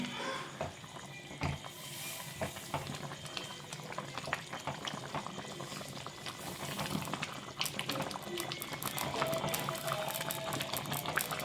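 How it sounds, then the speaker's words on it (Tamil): Water bubbling at a boil with soft pouring and rustling as semolina is added gradually for chicken upma, the bubbling growing busier toward the end. "ரவையை கொஞ்சம் கொஞ்சமாக கொட்டிக்கலாம்"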